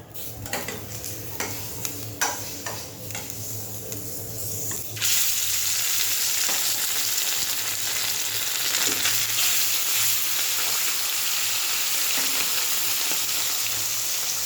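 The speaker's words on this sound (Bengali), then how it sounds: "মাছটা ভাজা হয়ে গেছে, এবারে তুলে নেব।" Fish frying in a pan in a home kitchen, a steady loud sizzle that jumps up after a few seconds of quieter clinks and stirring, continuing without talk.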